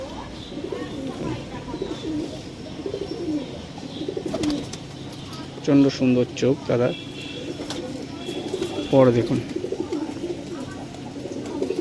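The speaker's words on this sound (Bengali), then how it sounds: "পায়রা খুব ছটপট করছে" A Punjabi Malbai pigeon coos and flutters while being handled at close range, with someone talking over it throughout and a few louder bursts of wing noise and cooing partway through.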